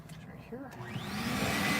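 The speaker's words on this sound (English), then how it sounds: "Get rid of that fur. Gonna blow these off." A blower starts up to blow fur off after a cut, a rushing airflow that swells and rises in pitch to a steady loud hiss, with a brief voice at the start.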